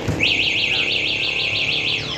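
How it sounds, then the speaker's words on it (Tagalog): Anti-theft alarm of an NWOW ERVS3 e-bike sounds a loud, steady warbling electronic siren, rising and falling in quick regular sweeps for about two seconds, alone and close by. "Then off, alarm, meron din siyang alarm."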